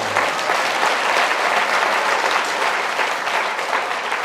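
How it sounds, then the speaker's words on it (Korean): A church revival congregation at a national unification prayer rally breaks into sustained applause, dense and steady throughout at close range, with no talking over it. "그러니까 박수 한번 치죠."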